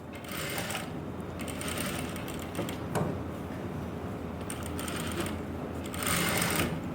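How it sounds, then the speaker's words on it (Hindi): A sewing machine runs steadily as it top-stitches along the edge of lining fabric on a garment neckline, a close continuous whirring with slight surges and a sharp click partway through; no one speaks. "अब इसके बाद यहाँ पर एक सिलाई लगेगी अस्तर वाले कपड़े पर, एक बिल्कुल जिसको बोलते हैं ना टॉप स्टिच किनारे सिलाई।"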